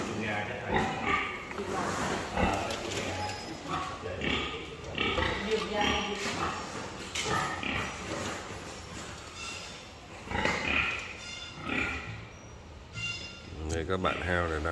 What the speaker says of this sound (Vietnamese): các bạn heo này đang nằm chơi.